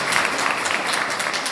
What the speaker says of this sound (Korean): 다시 한번 우리 올리비아 리 학생에게 박수 부탁드리도록 하겠습니다.